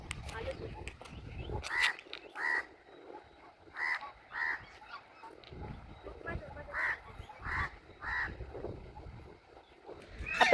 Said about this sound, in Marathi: आवाज करतायत ते बदक